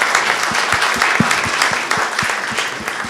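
Audience applause at a talk on entrepreneurship in Africa, loud sustained clapping from a full room with distinct individual claps standing out from the dense patter.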